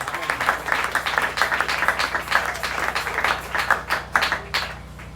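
A church congregation claps in steady rhythmic beats during a Pentecost service, the hand claps dense and continuous over a background of singing voices.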